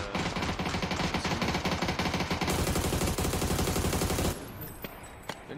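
Dense automatic gunfire from the PUBG battle royale game roars almost without pause, loud and close, then thins to scattered shots near the end.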